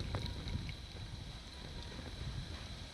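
A noisy cooking stove burns in strong wind outdoors, giving a steady, faint roar and rushing gusts with no voices.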